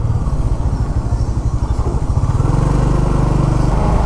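A motorcycle engine idles close by, a steady loud rapid chugging throb that holds even throughout, with no voices.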